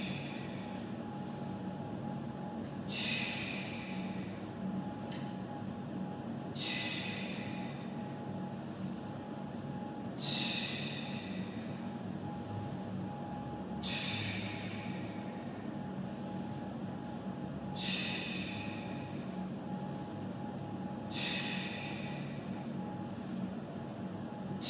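Audible exhales during a breathing exercise, a series of regular breathy whooshes repeating about every three to four seconds over a low background hum, with no speech.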